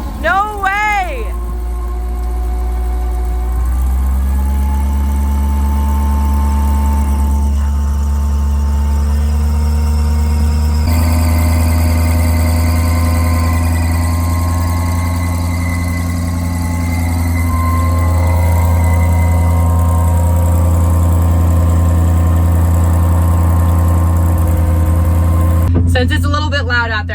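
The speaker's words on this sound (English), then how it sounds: "Right now, the engine is started" A farm engine runs steadily, turning a PTO shaft that spins a wellhead water pump, giving a loud low drone with a whining tone on top, while people talk nearby throughout.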